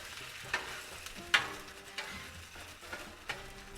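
Chorizo and eggs frying on a Blackstone griddle, a faint sizzle broken by a few scattered spatula scrapes and taps, close but quiet with no voices.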